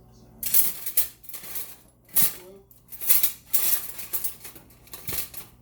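A metal slotted spoon clanks against pots and pans while frying ramen noodles with shrimp and vegetables, in a series of sharp, bright metallic knocks and rattles coming in irregular bursts, close and fairly loud.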